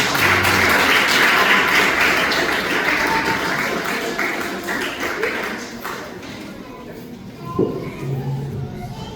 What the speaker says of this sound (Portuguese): receba o ministro Francisco com palmas para o Senhor Jesus